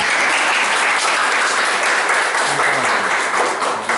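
Audience at a Korean youth festival Q&A session claps loudly for a questioner, a dense sustained round of applause filling the room for several seconds.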